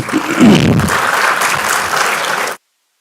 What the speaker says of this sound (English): I guess you can applaud for that